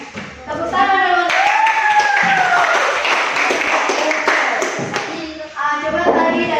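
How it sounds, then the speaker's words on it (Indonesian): A classroom of students claps hands together in applause, a steady dense patter lasting several seconds with voices talking over it. "Tepuk tangan teman-teman."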